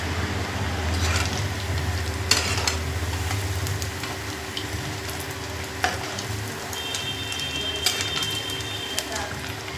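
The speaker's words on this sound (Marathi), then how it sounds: "मिरच्या तळून घेईल थोड्या" Green chillies frying in oil give a steady sizzling hiss with occasional sharp pops and utensil clicks, while faint bird calls and a low background hum sit underneath.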